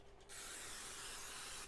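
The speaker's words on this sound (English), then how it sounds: "Cooking spray." Cooking spray hisses steadily into an air fryer pan, close and continuous for over a second after a brief quiet start, with no talking.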